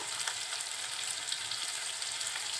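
Onion and prawns sizzling steadily in a pan while being stirred, a dense, close, unbroken frying hiss with no voices.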